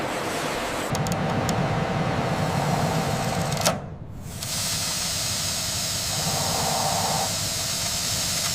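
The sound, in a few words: industrial steam chamber steaming instant noodles in a factory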